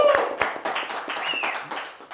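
Brief studio applause on a Spanish-language show, quick clapping from a small audience with a few sharp claps up front and voices talking over it.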